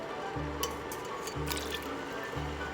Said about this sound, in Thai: ใส่น้ำส้มมะขามเปียกไปเลยค่ะ